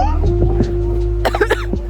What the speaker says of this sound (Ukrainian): Владка, це то, що я кашляю.